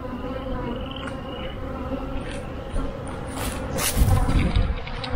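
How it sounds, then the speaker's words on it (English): Honeybees buzz around an open beehive being split, a dense, steady swarm hum that swells louder toward the end, with no voices. "These bees are excited."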